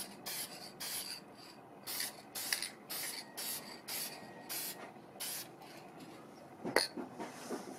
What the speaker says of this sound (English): Let's go with the workable fixatif, okay? Always spray these outside.